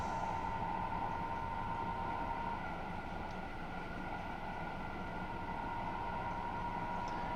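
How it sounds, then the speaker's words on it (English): High-speed train in a simulator game running along the LGV Marseille–Avignon line at around 240 km/h, a steady continuous rumble with a sustained tonal whine, even and unbroken throughout. "Looks like the train changed gears for a moment at 240."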